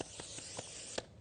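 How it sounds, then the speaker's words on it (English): A spray bottle or cooking spray is aimed into a half-cup measuring cup used for shaping burger patties, giving a brief, close hissing burst with a few faint clicks, heard alone. "And then you spray"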